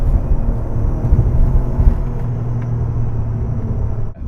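Ferrari 575M Maranello V12 accelerating hard from inside the cabin, a loud deep engine roar rising through a gear, then a brief dip as the next shift comes near the end.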